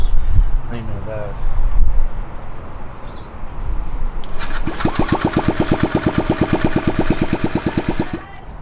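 A Honda Ruckus 50cc scooter engine catches partway through, then idles in a fast, steady putter close by with its exhaust covered. Before that come scattered handling noises and faint background.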